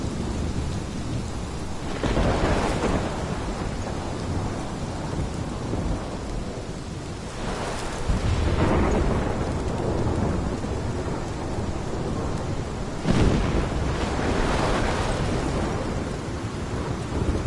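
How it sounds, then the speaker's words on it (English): A PS4 video game thunderstorm: steady heavy rain pouring throughout, with three deep rolling thunder rumbles swelling at intervals, loud and close, and no talk. "This is my storm. I caused this."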